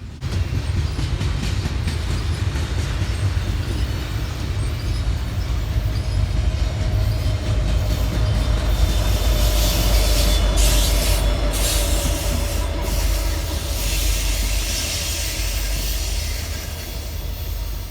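A freight train with SD70ACU helper locomotives rolls past on the Pittsburgh Line at Cresson on a hot July day, a loud continuous rumble of wheels and cars with brief high squeals and clatter, no voices.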